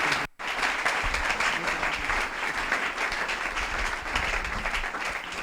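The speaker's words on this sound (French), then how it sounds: "sous l'ovation de nos vives acclamations" A congregation at a French-language Christian gathering gives an ovation and applause to welcome an apostle, steady dense clapping throughout at moderate level with no voices over it.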